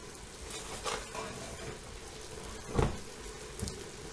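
Vegetable oil heating in a hot frying pan, ready for pan-tossed potatoes, gives a soft, steady sizzle with a few brief crackles, fairly quiet and with no talk.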